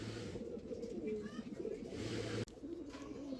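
Black magpie pouter pigeons give soft, low cooing in repeated throaty phrases, close by, under steady background noise.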